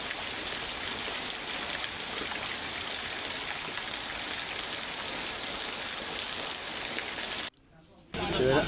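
Heavy monsoon rain and rushing floodwater near a roadside flood spot make a dense, continuous hiss and wash that breaks off briefly near the end before returning louder.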